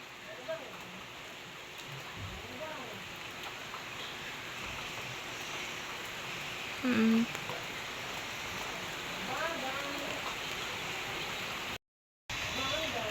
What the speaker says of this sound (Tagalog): Napatak na po dito ang ulan.